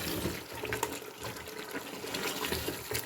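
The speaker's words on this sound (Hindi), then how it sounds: "पानी डालेंगे।" Water pours steadily into a pot of browned meat and tomatoes for aloo gosht, a continuous gushing splash close by with no talking.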